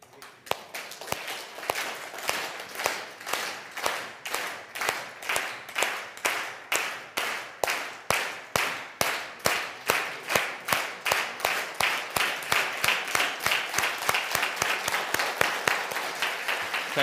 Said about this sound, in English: Can you clap? How will you clap?